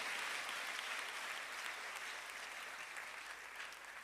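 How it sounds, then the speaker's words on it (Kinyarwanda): Steady, dense applause from a church congregation during a bishop's service in Rwanda, loud and continuous throughout and tapering slightly toward the end. "Komera Imana amashyi mu izina rya Yesu"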